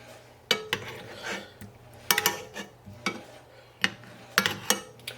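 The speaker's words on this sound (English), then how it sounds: "we're going to spoon the sauce over the top" Spoon clinks and scrapes against a dish and pan as sauce is ladled over a fish dish in a kitchen, several sharp metallic taps in an irregular rhythm over a low background hum.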